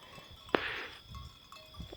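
Sheep grazing at night in a pasture give a faint, distant bleat amid low rustling and a single sharp knock, with soft ambient noise throughout.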